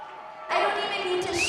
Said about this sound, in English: Listen to them cheer. Listen to them go.